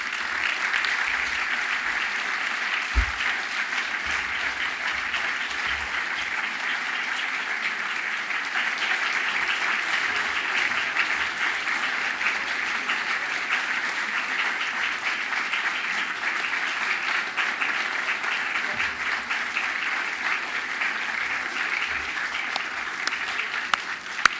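Long, sustained applause from a large audience at a Gotham Greats celebration for honorees, even and unbroken for over twenty seconds, with a few louder claps near the end.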